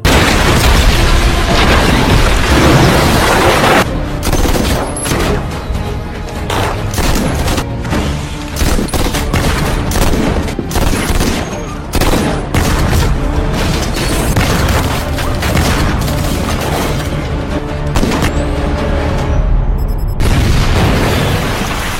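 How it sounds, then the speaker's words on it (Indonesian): Gunfight in a mafia revenge film scene, dense and loud with continuous volleys of shots, heavy booms and bursts layered under a dramatic score, with no clear talking. "Selanjutnya, baku tembak pun terjadi."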